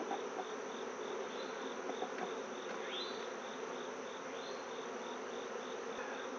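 Honey bees swarm in an opened apiary hive whose bottom box is densely packed, giving a steady, even buzz with occasional sharper passes of individual bees, fairly soft and with no talking.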